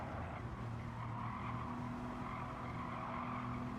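A race car at the Goodwood event brakes hard with its tires skidding, giving a steady, faint squealing roar that holds at an even level throughout.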